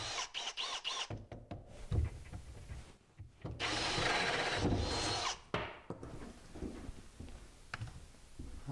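A drill bores a 1.5 inch faucet hole through a kitchen countertop during a sink install, with a few sharp knocks first, then grinding, whirring bursts of cutting that start and stop, heard fairly faint and close.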